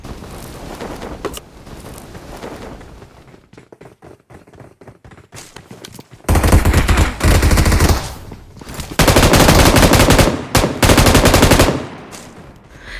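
Bursts of automatic gunfire in a squad battle in a battle-royale shooter game at an ancient temple map, with a quieter stretch of scattered shots before loud, sustained volleys of rapid fire near and dense.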